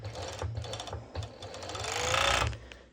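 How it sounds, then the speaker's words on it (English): A serger overlocking a seam on swimsuit bottoms with a V-band runs in a fast steady mechanical whir with a rhythmic low thump, close and alone, building slightly toward the end. "go directly to my serger and serge over"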